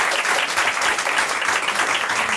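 After a talk at a perfume and scent event, the audience breaks into close, steady applause with dense, overlapping claps throughout.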